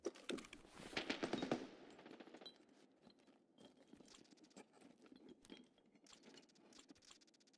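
Video game gunfire during a match involving a sniper: faint, distant bursts of rapid shots and crackling in irregular clusters, quiet throughout with no talk.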